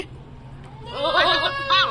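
Goats bought for the Eid sacrifice in Karachi bleat twice, close and loud, with wavering nasal calls after a quiet start and faint background hum.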